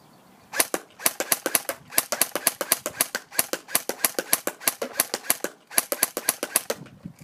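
SRC G36C airsoft gun fired in semi-auto, sharp close snaps in rapid bursts of single shots with brief pauses between groups, loud and dry with no talking.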